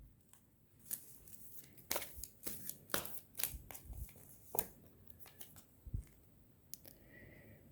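Tarot cards being shuffled by hand give off a scatter of sharp riffling and flicking bursts, some louder than others, with quiet pauses between them and nobody talking.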